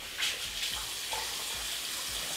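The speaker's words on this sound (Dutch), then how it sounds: "Dus ik was mijn gezicht altijd apart, gewoon hier onder de kraan met een beetje lauw / koud water." Running lukewarm tap water splashing steadily at a bathroom sink as someone washes their face, a close and constant hiss with a few brief splashes.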